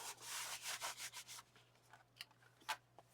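Chipboard being rubbed down by hand, a soft, close scratchy rubbing in quick strokes for about a second and a half, then faint scattered scuffs and taps; quiet with no voices.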